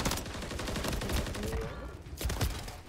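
Gunfire in Call of Duty: Modern Warfare III, a dense burst of rapid automatic shots followed by a couple of louder blasts, all at moderate level.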